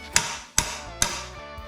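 A hammer strikes a car engine's heater line that is stuck fast with red Loctite: three sharp, loud, close metallic blows, evenly spaced about half a second apart, each ringing briefly before the next.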